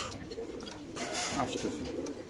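Pigeons cooing from cages at a busy pigeon market, soft repeated coos blending into a steady crowd murmur with background chatter.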